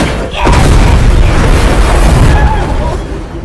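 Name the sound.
grenade explosion in a film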